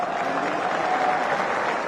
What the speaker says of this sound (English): Thank you very much for that round of applause.